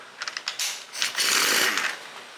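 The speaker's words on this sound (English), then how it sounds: "Let me grab an impact, we'll see what that is." An impact wrench with an 18 mm socket works on the flywheel nut of a 98cc motor. A few quick taps give way to a loud, sustained, harsh whirring hammer burst close by.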